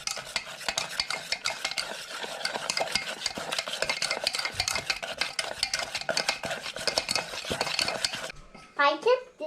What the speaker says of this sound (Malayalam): നല്ല രീതിയിൽ ഇളക്കിയെടുക്കാം കേട്ടോ.